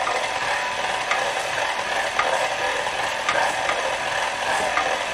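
A stand mixer runs on slow speed, working whole wheat bread dough with flour being added, giving a steady whirring churn with faint rhythmic knocks and scrapes throughout.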